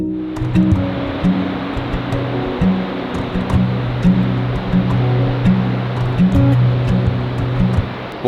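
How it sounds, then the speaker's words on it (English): Ocean surf breaking on the Oregon coast, a steady loud wash of broadband noise with a low rumbling undertone and slight swells in level, continuous throughout with no voices. "The waves obviously aren't breaking the same"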